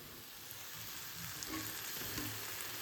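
Prawns dry roasting in a pan, a steady soft sizzle with faint crackles and occasional stirring scrapes, heard alone at low volume.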